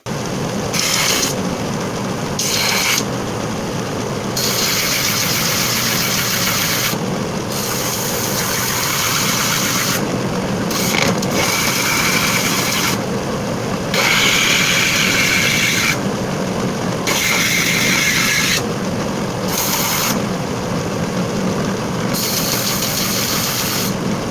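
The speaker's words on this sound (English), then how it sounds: "we're going to just attach it to the bottom of the sword and call it a day. So we're back to the sander." A loud power sander grinds on a wooden sword in bursts, roaring steadily with brief pauses and shifting pitch as the wood is worked.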